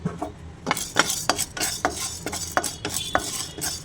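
Chana dal and urad dal dry-roast in a pan on low flame, a spoon stirring and scraping through the lentils in quick, irregular rattling strokes, close and fairly soft.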